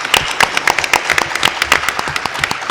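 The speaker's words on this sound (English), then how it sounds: "So let's give our panelists a big round of applause." An audience claps for the panelists at the end of a panel session, a dense, lively round of close hand claps that carries through without a break.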